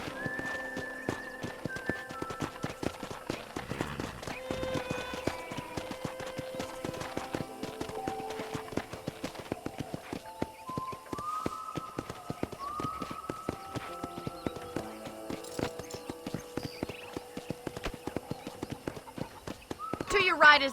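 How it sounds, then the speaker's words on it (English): Horse hooves clip-clop steadily at a ride in the Western video game Red Dead Redemption, with a whinny or two, running continuously beneath game music and voices. "let's see if you can still ride a horse."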